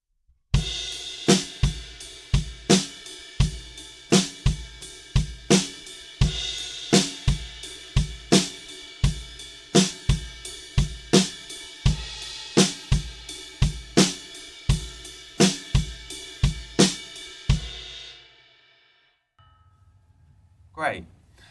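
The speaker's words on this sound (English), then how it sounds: "in the chorus, what we're doing is we're onto the ride cymbal" A steady drum groove from the chorus of a song, with a ringing ride cymbal on every beat and punchy kick and snare hits, stopping abruptly near the end.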